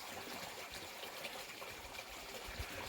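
A babbling brook in the woods along a trail: continuous broadband water rush and trickle, steady and fairly quiet, with no voices.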